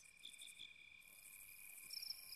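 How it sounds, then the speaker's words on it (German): Crickets chirp at night in the video game Xenogears: a faint, steady high-pitched trilling drone with pulsing chirps layered above it, continuous and quiet with no voices. "Man hört die Grillen zirpen."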